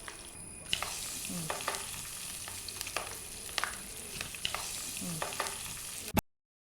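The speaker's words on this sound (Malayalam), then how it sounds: "എണ്ണ തിളച്ച എണ്ണ റെഡിയാണ് ദാ ഈ മസാലയൊക്കെ പിടിച്ച ചിക്കനും റെഡിയാണ്" Steady sizzling of masala-coated chicken frying in hot oil, with occasional soft clatters of a utensil, before the sound cuts off abruptly.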